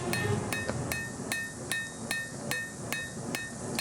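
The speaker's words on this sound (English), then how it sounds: "I'm going to cross peen this out and get it all drawn out" Steady hammer strikes on hot steel as a knife is forged from a WW2 bayonet, about eight sharp ringing blows spaced roughly half a second apart, close and clear over a low background rumble.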